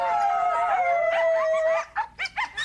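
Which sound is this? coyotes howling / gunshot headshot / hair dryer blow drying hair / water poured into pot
coyotes howling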